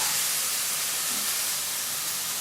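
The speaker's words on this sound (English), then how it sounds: "just make sure you keep tossing it around your frying pan so it is evenly cooked throughout" Chicken sizzles in a frying pan, a steady close hiss that holds constant throughout with no talking.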